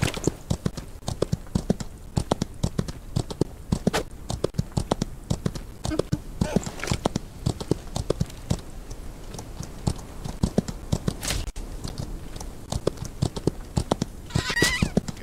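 Rhythmic hoofbeats of a galloping horse in the video game Outlaws of the Old West, fast and steady clip-clops with occasional louder thumps and a brief whinny near the end.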